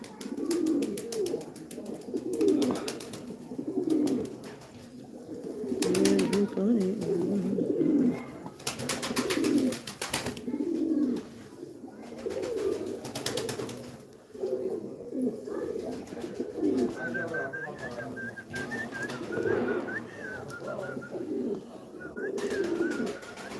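Pigeons and doves coo repeatedly at moderate distance, a steady soft rhythm of low throaty calls with brief louder bursts of rustling or wing noise, while a faint high bird tone drifts in near the end.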